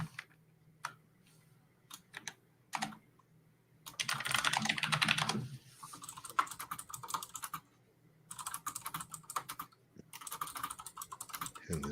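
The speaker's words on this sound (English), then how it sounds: "And the sound of much typing was heard." Rapid clattering keystrokes on a computer keyboard, typed in irregular bursts with short pauses between them, close and fairly loud against a quiet room.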